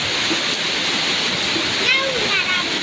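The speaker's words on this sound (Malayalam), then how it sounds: "അപ്പോൾ വെള്ളത്തിൽ വെള്ളം കുത്തുന്ന കാണാം." Steady rushing water pours into a pool, a continuous loud splashing roar with no pauses.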